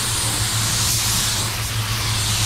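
A spray gun sprays candy red paint in a steady, loud, continuous hiss close by, with a constant low hum running underneath.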